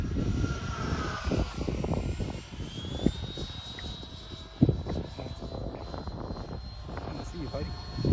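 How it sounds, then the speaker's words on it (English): A remote control Stinger 90 jet airplane making a high-speed pass, its engine roar loud and sustained with a rising whine passing overhead, mixed with outdoor wind and crowd noise. "here comes Tony with his high-speed pass"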